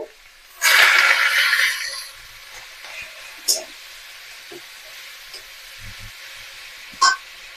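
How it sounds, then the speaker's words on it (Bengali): Beetroot sizzles in a hot pan, a loud burst of frying hiss that fades to a low crackle with occasional stirring clinks. "বিটটাকে একটু ভেজে নিতে হবে"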